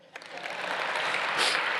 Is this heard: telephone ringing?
no